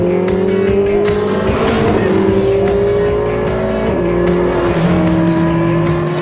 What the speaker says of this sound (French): On va se faire une petite ligne droite quand même, une accélération.